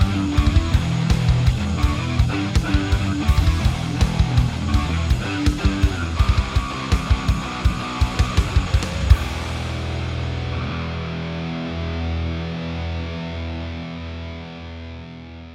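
Bass guitar played through a Line 6 Helix with an overdrive, feeding straight into the front of an amp: a loud, distorted run of punchy, rhythmic notes for about nine seconds, then a long sustained chord slowly ringing out.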